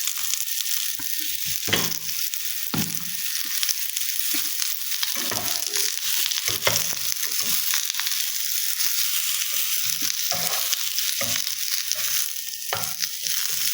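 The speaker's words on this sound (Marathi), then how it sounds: "मीडियम टू लो फ्लेमवर सगळीकडून व्यवस्थित कोट होतील असे टॉस करून घेत राहायचं आहे" Soaked soya chunks tossed and roasted in a pan over medium-low flame, a continuous sizzle broken by repeated scraping and clattering knocks as the pieces are stirred.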